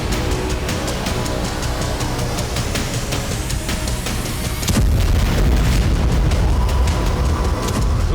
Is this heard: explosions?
yes